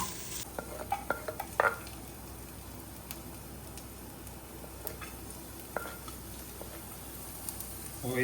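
Paneer and vegetables roast in a pan for healthy fried rice, a steady soft sizzle with a few sharp clinks and stirring scrapes near the start, continuing quietly without talk.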